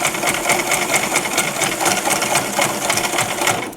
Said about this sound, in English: So this is how she sews.